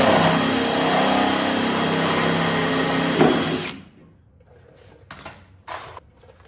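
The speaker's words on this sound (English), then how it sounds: "Best thing to do is kind of let the drill do its work." Power drill boring holes in the rear fender of a BMW E36, a loud steady high whine for about three seconds that stops abruptly, followed by faint handling noises.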